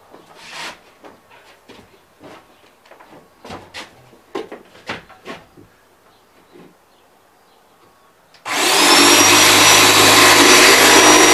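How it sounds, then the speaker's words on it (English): A router cuts along the edges of a countertop in a cargo trailer conversion, starting partway through as a sudden, loud, steady whine that holds to the end after some quieter scattered knocks and handling noises. "then we're going to route these edges off"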